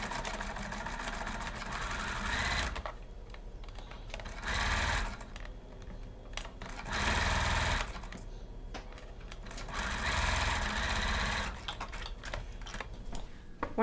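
Sewing machine stitching garment shoulder seams in several sustained runs of rapid needle chatter, pausing briefly between runs, close and steady with no talk.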